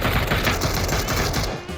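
Rapid, continuous automatic gunfire crackles steadily for under two seconds, dense and loud, weapon fire in the shooting game PUBG, then drops off briefly at the end.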